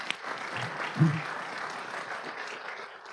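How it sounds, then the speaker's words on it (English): Steady applause fills a city council chamber for honored police officers, moderately quiet and continuous with a brief louder thump near the start, no voices on top. "So I want to congratulate those police officers. Give them a big round of applause."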